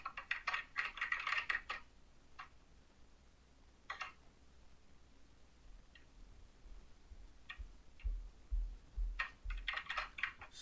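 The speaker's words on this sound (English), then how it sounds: "your mic is making noise. I mean, if you using your keyboard" Bursts of computer keyboard typing heard over a microphone at a live stock-market trading desk, with rapid clusters of key clicks separated by pauses and a few isolated taps, fairly close but not loud.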